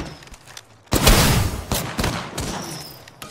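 Bursts of video game gunfire erupt after a quiet start, loud rapid volleys with sharp cracks and brief gaps, continuing in uneven rattling clusters to the end.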